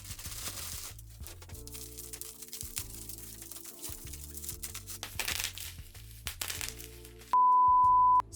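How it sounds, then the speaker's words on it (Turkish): A plastic shopping bag is opened and rummaged through, giving steady close crinkling and crackling with sharp crunchy bursts, followed near the end by a short steady electronic beep. "Şu poşetten açmaya başlayalım."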